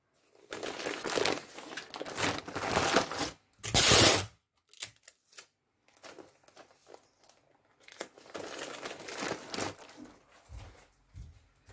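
Paper crinkles and crumples in bursts of rustling, with a brief loud crunch in the middle and quieter handling between.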